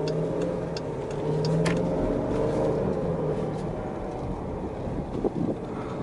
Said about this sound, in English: The roar from this car is just silly.